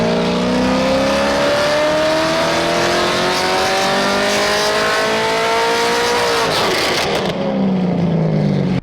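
A Corvette C6 Z06 with its LS7 V8 revs hard, the engine note climbing steadily for several seconds before dropping sharply, then settling into a lower drone; loud and close with no talking.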